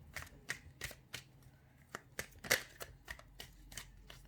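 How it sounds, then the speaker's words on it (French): Tarot cards are shuffled by hand in a quick, irregular series of crisp riffling snaps and soft slaps, close and fairly quiet, with no talking over them. "On va mélanger un peu."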